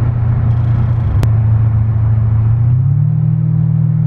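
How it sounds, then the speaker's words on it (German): A Mercedes CL500 C216 V8 rumbles low and loud under acceleration with heavy front-end vibration, a steady drone that rises slightly in pitch toward the end, heard from inside the car. "Sehr viel Vibration, sehr, sehr viel Vibration im Vorderwagen."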